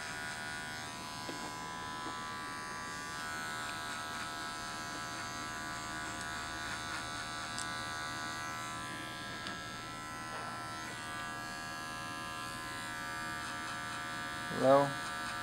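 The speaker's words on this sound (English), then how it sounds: "Always clean as we go, so comb cut." Electric clippers cut hair for a skin fade, a steady close mechanical buzz that runs unbroken throughout with faint comb and cutting texture and a brief louder knock near the end.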